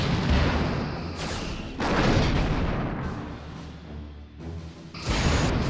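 Starship weapons fire in the Star Trek Bridge Commander game: dense, rumbling bursts of blasts and booms roll on continuously at fairly loud level, swelling in several waves with no talk over them.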